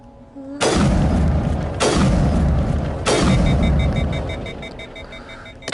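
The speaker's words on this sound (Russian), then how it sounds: "Три выстрела." Three gunshots in Mass Effect Legendary Edition ring out about a second apart, each a loud, sharp crack with a booming tail that fades slowly.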